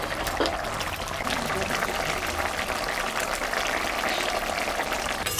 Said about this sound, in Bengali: ফুটে গেছে, মাছটা আমি এখন দিয়ে দেব